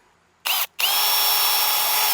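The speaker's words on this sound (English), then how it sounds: "I'm going to take a 1/16 of an inch drill bit and drill straight through" A power drill with a 1/16 inch bit bores through a Cold Steel Spetsnaz shovel handle, giving a short whine, a brief pause, then a loud steady high-pitched drilling close by.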